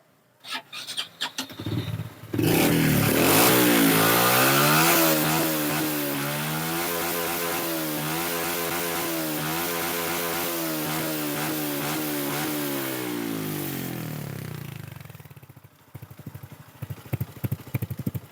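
A Honda Wave 110i motorcycle with a remapped engine control box and an air-related fault starts up and revs hard, then holds a steady, close, loud idle with a wavering pitch before cutting off, followed by a few clicks.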